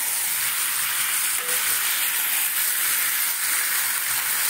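New potatoes fry in a pan, sizzling steadily and loudly up close while being stirred, a constant hiss with no voices.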